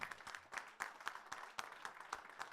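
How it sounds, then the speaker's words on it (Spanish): A church congregation claps during a Spanish-language service: a steady, moderately loud patter of many hands with scattered sharper claps, continuing throughout without a break. "Denle un aplauso fuerte,"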